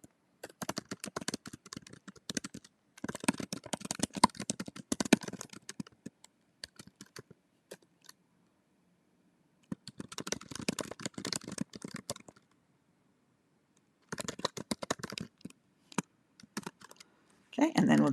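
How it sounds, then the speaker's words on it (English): A prompt being typed on a computer keyboard, with quick bursts of close key clicks separated by short pauses of silence. "and then we'll just type that in there"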